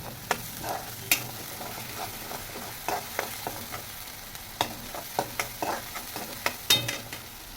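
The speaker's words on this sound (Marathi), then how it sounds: "ह्याच तेलामध्ये मसाला फ्राय करून घ्यायचा आहे" Masala frying in oil for a village-style egg curry, a quiet sizzle broken by repeated sharp scraping and clinking taps of a spoon stirring the pan.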